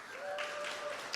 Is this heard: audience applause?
yes